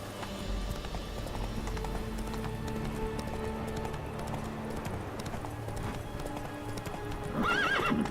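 A horse gallops in The Witcher 3 with rapid, rhythmic hoofbeats pounding steadily and close, and a whinnying neigh rises at the end.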